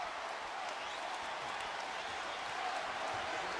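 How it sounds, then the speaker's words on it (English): An arena crowd at a Celtics–Lakers NBA basketball game cheers and applauds in a sustained, even roar as fans rise to their feet. "Many in the crowd getting on its feet."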